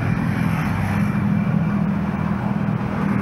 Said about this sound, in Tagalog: Hindi masyadong maingay yung motor niya.